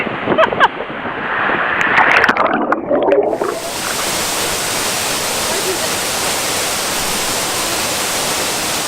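Natural waterfall on the Road to Hana in Hawaii, heard as a loud, steady broadband rush that takes over after a few seconds of splashing and voices near the water.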